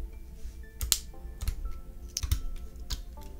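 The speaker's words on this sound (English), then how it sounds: "I'm just gonna take off all of these keys." Keycaps being pried off a keyboard, several sharp plastic clicks and snaps spaced irregularly, close and fairly quiet with no talk.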